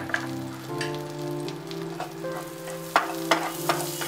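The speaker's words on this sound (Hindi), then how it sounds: "बटर गर्म होने के बाद हम उसमें जीरा डालेंगे." Cumin seeds fry in hot butter in a pan on a gas stove, giving a steady sizzle with a low, even hum beneath and a few sharper crackles toward the end.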